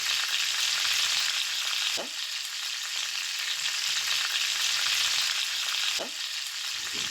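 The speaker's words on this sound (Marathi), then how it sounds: "आता तुम्ही बघू शकता आपला कांदा व्यवस्थित परतलेला आहे" Onion sautéing with salt in a pan, a steady loud sizzle and crackle throughout, with two sharp spoon scrapes spaced a few seconds apart.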